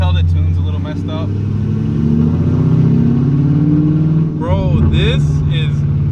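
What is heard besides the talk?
Camaro SS loud exhaust revving with Speed Engineering headers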